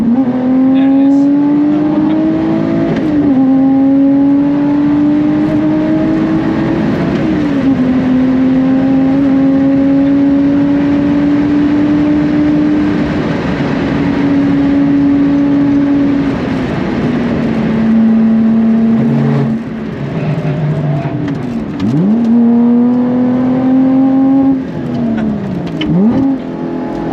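A Lotus Exige 380 on the Nürburgring revs hard through the gears, with a loud, close in-car engine note climbing, dropping at shifts and bouncing off the rev limiter for a sustained stretch.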